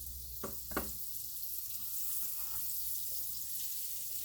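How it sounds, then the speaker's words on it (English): Steady sizzling of breaded food frying in olive oil fills the clip, with a couple of soft clinks early on and no talking. "I'm going to go ahead and put these in and start frying them"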